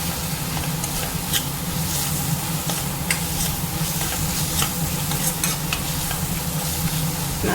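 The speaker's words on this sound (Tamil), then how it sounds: "மசாலாவோட பச்சை வாசனை போகிற வரைக்கும் நம்ம இதை வதக்கி எடுத்துக்குவோம்." Masala with garam masala sizzles and is stirred steadily in a hot pan while a wheat-bread evening snack is being cooked, a continuous close frying hiss with occasional scraping.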